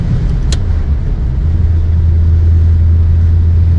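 A 1950 Mercury coupe engine drones loud and steady on the road in third gear, a low continuous rumble as it accelerates slightly and the overdrive engages.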